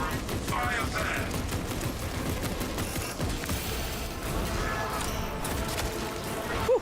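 Dense, continuous gunfire and heavy combat noise from the Space Marine 2 video game, loud and unbroken throughout, with chaotic mechanical clatter and bursts layered together.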